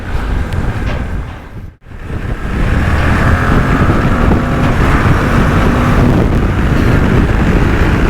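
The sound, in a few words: Suzuki V-Strom DL800DE motorcycle accelerating to overtake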